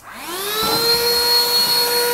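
A cheap HAN RIVER cordless handheld vacuum cleaner spins up and runs steadily nearby, its whining motor climbing in pitch at switch-on and then holding a loud, even drone with no voices.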